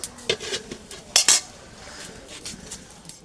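A metal lid goes onto a cooking pot of beef curry with potatoes and water, a couple of quick clanks and a brighter clink near the middle, close and fairly loud, then quiet kitchen background.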